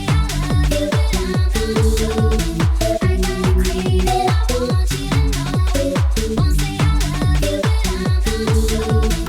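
A deep, wobbling speed garage synth bass pulses in a steady repeating pattern, thick and slightly detuned, with a reverb tail smearing each note, playing alone without voices.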